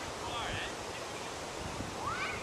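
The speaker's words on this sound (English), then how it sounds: "The wind is just starting to pick up." Wind blowing outdoors at a rocket launch site in July, a steady broadband rush with gusty swells, faint and continuous with no clear breaks.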